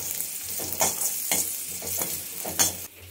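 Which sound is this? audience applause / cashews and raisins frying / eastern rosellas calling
cashews and raisins frying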